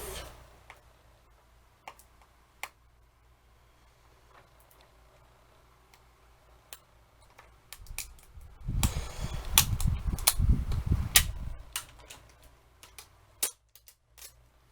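Adhesive tape being peeled off the shrink-wrapped case of a Turbo Blu-ray, DVD and digital copy set: a few faint ticks, then a louder stretch of crackling, ripping plastic and tape noise lasting several seconds, with scattered small clicks afterward.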